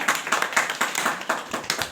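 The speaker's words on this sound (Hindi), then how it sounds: "इसके लिए जोरदार ताली नहीं मारोगे?" An audience at a motivational talk claps in a quick run of sharp, fairly even hand claps lasting a couple of seconds, moderately loud with no voices over it.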